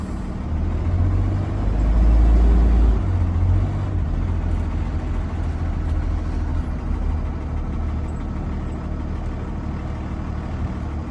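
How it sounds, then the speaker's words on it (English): A school bus engine runs steadily as the bus pulls forward from a stop at a slow crawl, a low rumble that swells briefly near the start, then settles into an even drone with no talking. "I will release the parking brake and drive forward to 5 miles per hour"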